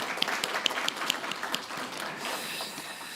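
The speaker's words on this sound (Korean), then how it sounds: "하나님께 한번 영광의 박수 한번 올리도록 하겠습니다" A church congregation applauds after a choir performance, with moderate clapping and a few sharp claps early on that fade into a softer wash by the end.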